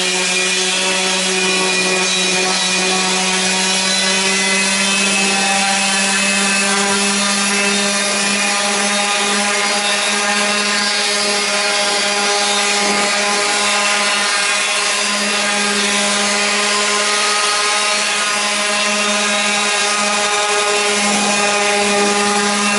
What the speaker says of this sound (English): we're going to hit it with a power sander